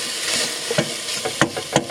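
Spicy sausage taken out of its casing sizzles steadily in a pan, close and fairly loud, broken up by a few scraping stirs as the meat is pushed around and mashed, with no talk over it.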